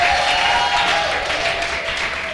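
Church congregation clapping hands together in worship, a dense, steady wash of applause filling the room for the whole stretch with no pauses.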